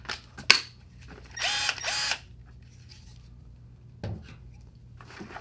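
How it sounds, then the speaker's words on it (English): A small Milwaukee impact drill gives short whirring bursts, two quick pulls of the motor close by, between softer clicks and handling noises. "And here I have a MILWAUKEE drill. A small one. This is the impact one."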